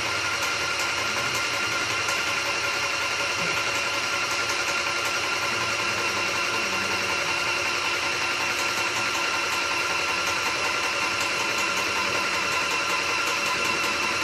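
Airless paint sprayer running with a steady, loud, unbroken mechanical drone and hiss that holds constant throughout, close by, with no talking.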